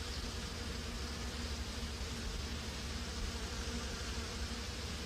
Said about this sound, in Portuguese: as abelhas operárias se apressam em fechar os alvéolos